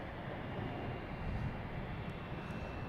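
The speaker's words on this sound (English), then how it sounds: "There's a JetBlue coming in from Minneapolis." A JetBlue airliner arriving at Boston Logan Airport from Minneapolis gives a steady, broad engine roar. It holds at an even level and has no talk over it.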